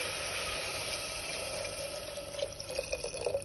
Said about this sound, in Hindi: और अब इसमें हम पानी ऐड करेंगे